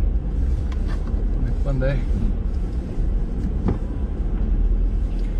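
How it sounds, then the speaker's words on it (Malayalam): A car drives up into a train carriage, a steady low engine rumble running throughout beneath close conversational speech. "വണ്ടി നമ്മൾ അവിടെ ട്രെയിൻ അകത്തോട്ട് കയറ്റുവാണ് കേട്ടോ."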